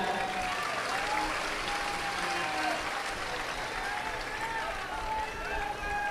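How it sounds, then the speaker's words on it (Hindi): A large outdoor religious gathering claps together in summer heat, a broad continuous roar of hands and crowd noise, with voices and cheering tones rising through it and a speaker's voice partly heard over it. "एक बार खुद के लिए ताली बजा लो।"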